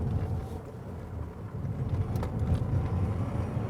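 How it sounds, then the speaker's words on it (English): Toyota Mirai hydrogen fuel cell car driven on a curvy rural road, a low steady rolling rumble of tyres and wind with no engine note, fairly quiet and even, no talking. "So we're now doing a little ride and handling test here on a curvy B road"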